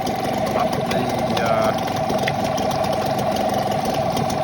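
A Parsun 5.8HP two-stroke outboard motor runs with its leg in a bucket of water, a steady close buzzing drone with a constant pitch and a faint rattly, knocking texture throughout.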